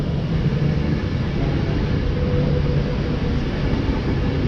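Pendolino train running between Wellingborough and Northampton, heard from inside as a continuous low rumble and rush that stays steady and fairly loud throughout, with no talk.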